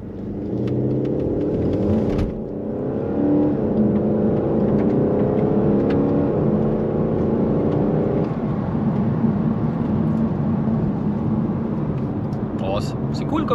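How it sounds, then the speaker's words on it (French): A VW Golf 8 GTD diesel in sport mode accelerating gently from inside, a rising engine drone with gear changes over a low road rumble, fairly loud and steady, with someone talking over it. "faire une petite accélération tranquille pour voir le bruit du V8."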